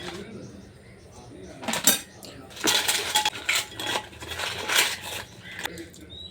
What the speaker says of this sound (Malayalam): ഞാൻ അതുകൊണ്ട് കൈ കൊണ്ടാണ് പിന്നെ ഇളക്കുന്നത്